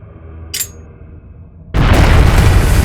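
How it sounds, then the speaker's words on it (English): A bomb detonates in the video game Trails of Cold Steel: after quiet tones and a brief hiss, a sudden loud, deep roaring blast erupts and keeps rumbling. "What? A bomb?"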